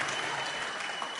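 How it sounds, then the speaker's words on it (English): An audience at a corporate drum circle event in Goa bursts into dense, sustained applause, loud and close throughout with no break. "You guys deserve a round of applause."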